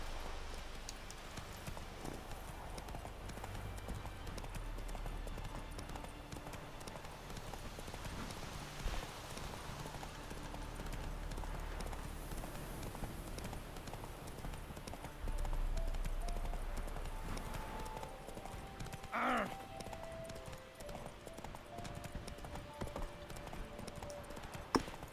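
Roach the horse's hooves clip-clop steadily in The Witcher 3 amid a continuous game soundscape, with occasional faint rain-like patter and a brief louder burst midway.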